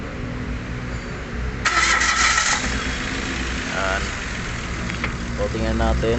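A Mitsubishi Mirage engine with a misfire cranks with a harsh whirring burst, catches, and settles into a steady idle after ignition coil work; a voice speaks briefly near the end.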